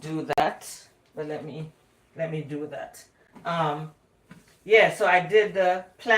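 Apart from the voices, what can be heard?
No distinct noise like a dog, phone or traffic.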